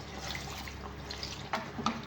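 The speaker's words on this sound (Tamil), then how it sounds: "இப்போ இதில் கொஞ்சம் வந்து தண்ணி ஊற்றிக்கணும்." Water pours steadily into a pot of chicken curry before pressure cooking, a soft continuous splashing trickle with a couple of brief clinks.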